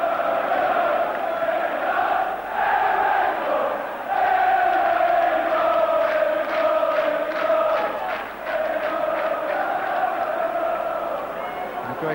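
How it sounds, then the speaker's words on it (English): A football crowd at Birmingham City against Aston Villa roars and cheers after Birmingham's equaliser, a loud, sustained stadium din with swelling chants and whoops. "suddenly it's those who've been quiet who are now cheering"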